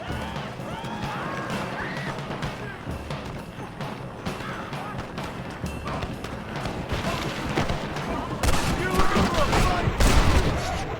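Rapid gunfire in Red Dead Redemption, a dense fusillade of sharp cracks that builds louder toward the end, with horses and crows faintly mixed in.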